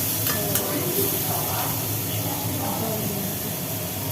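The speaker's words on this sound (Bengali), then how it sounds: "এর মধ্যে পেঁপে দিয়ে নাড়াচাড়া হচ্ছে" Papaya frying in a pan with fenugreek seeds for a sweet chutney, stirred steadily, giving an even, moderately loud sizzle with faint scraping and a brief clink near the start.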